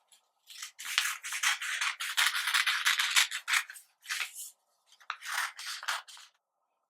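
Scissors snip through origami paper in quick, rhythmic rasping strokes, cutting strip after strip up close, with two brief pauses between runs of cuts.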